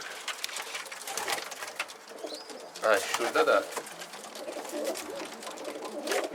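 A bird coos softly nearby inside a coop amid rustling background noise, while a person speaks briefly.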